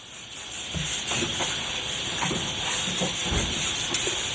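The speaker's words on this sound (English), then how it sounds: "we'll just get a little hobby file and file that up" A small hobby file scrapes a burr off a pinball machine crank part, close-up rough rasping strokes repeating at an even rhythm over a steady background hiss.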